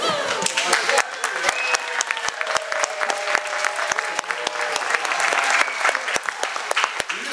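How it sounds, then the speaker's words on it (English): Radio show studio audience breaking into applause on cue, a dense, steady wash of many hands clapping that holds loud for several seconds, with a few voices faintly mixed in. "When I do this, please applaud, like now."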